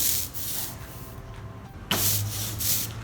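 A soft, continuous rolling rub as a brayer works ink across a printing block, with steady broadband texture and a brief tackier shift partway through.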